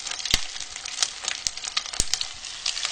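Food frying in a very hot pan, a steady crackling sizzle close by with scattered sharp pops and spits of oil, no talking.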